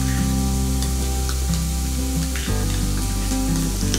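Food sizzles steadily in a hot pan for a Malvani-style stuffed pomfret dish, a continuous loud frying hiss with a low hum beneath and a few soft scraping stirs.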